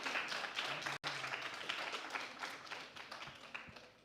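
An audience at a debate quarter-final claps steadily for about four seconds, a dense, moderately quiet patter of many hands with a brief cut near the one-second mark.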